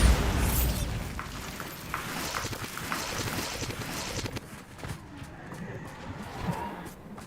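A Bombarda blasting spell from Hogwarts Legacy erupts in a loud, broad explosive roar that rumbles and trails off over several seconds into quieter ambient rustle and faint game sounds.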